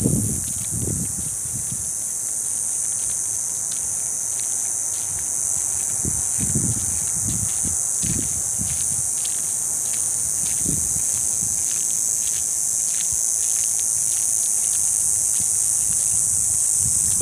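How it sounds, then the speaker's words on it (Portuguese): A steady, high shrill of crickets chirping fills the air, with occasional low thumps and rustles underneath, outdoors. "Olha os grilos cantando"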